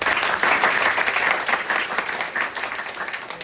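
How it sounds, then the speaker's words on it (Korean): An audience at a live talk-concert event gives a warm round of applause, a dense, continuous clapping that holds steady for several seconds before easing slightly. "박수 한번 쳐주세요."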